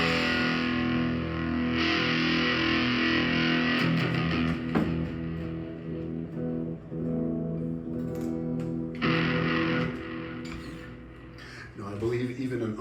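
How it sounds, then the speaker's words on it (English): An electric guitar played through a distortion pedal turned all the way up, a loud, thick sustained crunch of ringing chords with repeated strums and a brief pause near the end. "I would never be able to get it to sound like this with my distortion pedal."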